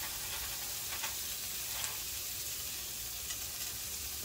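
Cherry tomatoes and a pepper mix sizzle steadily in a frying pan with chicken for an Italian-style dish, a dense, even hiss with faint stirring clicks throughout.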